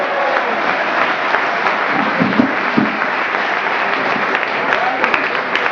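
A crowd claps for a mayoral candidate at a campaign event in Codognè, giving fairly loud, dense, sustained applause that runs steadily from start to finish, with a few voices mixed into the clapping.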